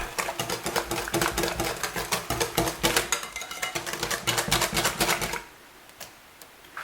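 An electric mixer whirs steadily through cake batter of milk and other ingredients at room temperature, a loud rattling buzz with rhythmic clicks that stops abruptly near the end.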